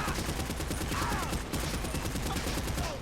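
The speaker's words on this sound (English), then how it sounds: "Who's shooting me?" Gunfire in GTA V rattles in continuous rapid bursts, a loud, dense volley of shots that barely pauses over three seconds.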